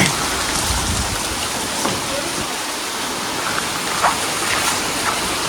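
Heavy rain pours down in a dense, steady roar of drops on surfaces, unbroken throughout.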